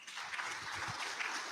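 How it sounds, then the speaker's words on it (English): An audience at a national pageant final applauds the Miss, Teen and Petite candidates. The clapping is a faint, dense, continuous wash, distant and even, with no talking. "Let us give them all a big round of applause."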